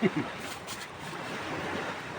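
Sea waves washing onto a beach, a soft continuous surf hiss with gentle swells, fairly faint and distant, with some wind on the microphone.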